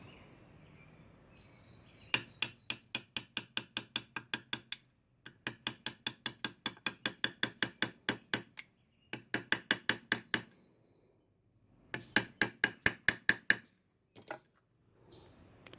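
A pin is tapped into a cracked wooden stock of a Savage Arms Model 87A .22 rifle, making crisp, evenly spaced metallic taps in several quick bursts separated by short pauses, close and clear with no talking.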